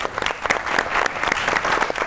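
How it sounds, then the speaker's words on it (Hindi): A studio audience at a comedy show claps in lively applause, many hands close together with crisp individual claps standing out over a steady rush. "दोनों के लिए बहुत सी ताली होनी चाहिए।"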